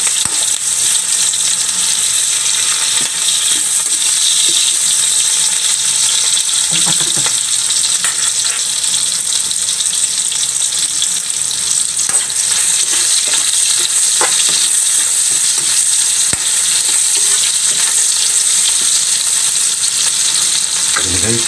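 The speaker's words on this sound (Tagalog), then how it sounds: "Lutuin mo natin guys yung pork niya guys bago natin tayo magdala ng gata." Pork pieces fry and are stirred in a pan, a loud, steady sizzle running throughout with occasional scrapes of the utensil against the pan, close and with no talking.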